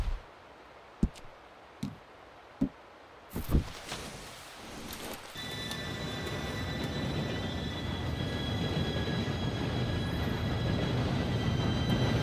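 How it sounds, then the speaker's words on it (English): A train approaches in the video game Red Dead Redemption 2. A few sharp knocks come first, then a rising rumble and metallic rolling noise builds steadily and grows louder as it nears. "Train should be here any minute now."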